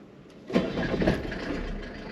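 An old Mercedes W201 190D diesel engine cranks and catches after pre-glow, quickly settling into a steady, rough, clattering idle, recorded close and alone.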